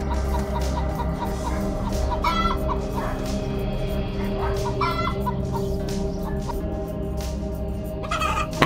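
A domestic chicken clucks repeatedly and close, sharp short calls in an uneven rhythm over a constant low background hum, with a louder burst near the end.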